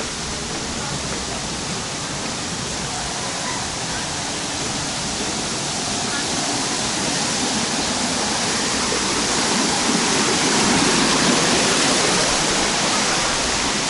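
Water pouring and splashing steadily through terraced volcanic hot spring pools on a mountainside in Hidalgo, Mexico, a dense continuous rush that swells slightly louder toward the end.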